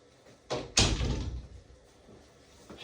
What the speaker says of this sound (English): Should I close the door?